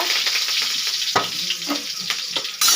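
Oil crackles and spits continuously as mustard seeds pop in a hot pan, a dense close sizzle with sharper bursts scattered throughout.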